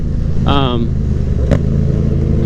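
Motorcycle engine bogging while out riding, a low, steady rumble held close throughout, with a short voice sound and a brief clatter over it.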